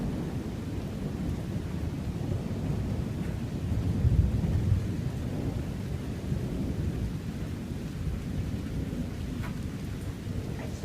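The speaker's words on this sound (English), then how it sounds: "It's constant thunder." Constant rumbling thunder with steady heavy rain during a severe summer thunderstorm in Sutton, Ontario, a continuous low roar with a louder swell of thunder midway and no voices.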